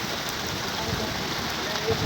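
Steady rain falls outdoors at Fort Munro in front of a restaurant and shopping centre. The broad hiss runs continuously and fairly loud, with faint voices mixed in.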